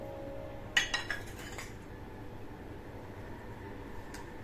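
A utensil clinks against a bowl a few times while mixing grated jaggery, soft metallic taps clustered early, then quiet stirring over a low background.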